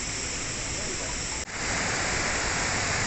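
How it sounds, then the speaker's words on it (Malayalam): Kozhippara waterfall at Kakkadampoyil in Kozhikode pours with a steady, loud, broadband rush of falling water that fills the whole clip, with one brief dip midway. "കോഴിപ്പാറ വെള്ളച്ചാട്ടം ഇതാണ്"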